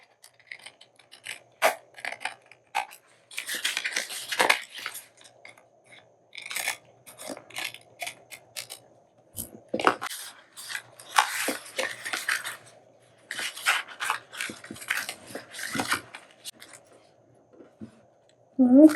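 Scissors snip through paper for a matchbook mini folio craft in irregular bursts of crisp cutting strokes, close up, with short pauses between runs.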